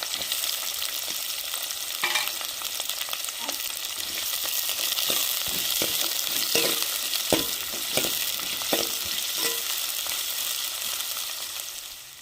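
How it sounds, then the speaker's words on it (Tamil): Chopped onions and green chilies fry in a pan for a fish curry with a steady, close sizzling hiss, and a spoon scrapes and clicks against the pan now and then while it is stirred. "வெட்டி வச்ச வெங்காயத்தையும் சேர்த்துக்கணும் பச்சை மிளகா சேர்த்துக்கணும்"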